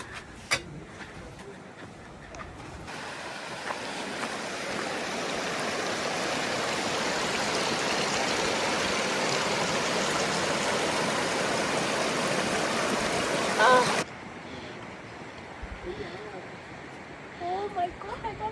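River flowing in Darma Valley, a broad steady rushing of water that swells and holds for several seconds before cutting off, with faint voices around it.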